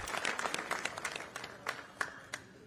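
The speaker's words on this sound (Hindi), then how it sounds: "इनके लिए भी एक बार जोरदार तालियां आप लोग बजा दीजिए" Scattered clapping from a crowd at an outdoor Hindi political rally on the final day of a padyatra, moderately distant and thinning into a few sparse claps.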